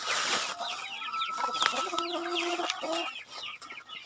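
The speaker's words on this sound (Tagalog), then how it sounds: "Yung mga manok natin, guys, nandito na sa bahay." Chickens at a house clucking and calling in a busy overlapping cluster, several birds close by with short chattering bursts and a few longer tonal calls, over faint background noise.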